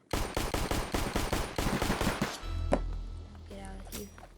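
Pistol gunfire in the video game Flag Wars, a fast string of sharp repeated shots for over two seconds, followed by a low rumble and a few scattered impacts.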